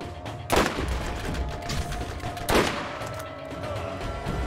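Gunfire crackles in the Borderlands video game over a dense, steady bed of game noise, with two heavy bursts standing out about two seconds apart.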